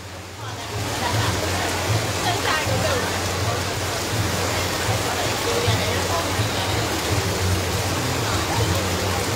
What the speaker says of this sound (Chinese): 现在就只能带大家来看一下雨有多大了